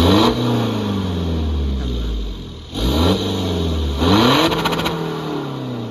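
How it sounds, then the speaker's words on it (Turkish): A lowered Honda car's exhaust revs up close in three separate pulls, each rising quickly to a loud raspy roar and then dropping back toward idle, with no talking. "Şöyle bir de egzoz sesini dinletelim size."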